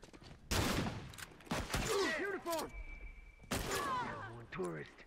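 Gunshots in The Last of Us online multiplayer, a few sharp loud reports mixed with players talking over them, close and punchy with short gaps between shots.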